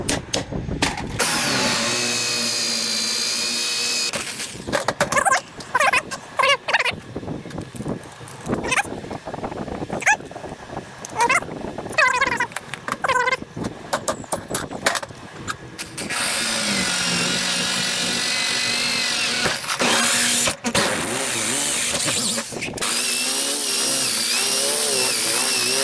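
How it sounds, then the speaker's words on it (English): A power drill bores a hole in metal for beam extension bracing on a Volkswagen Beetle-based Volksrod build, the whirring motor running in close, loud stretches with pauses and clattering handling between them. "find center, punch it, drill it"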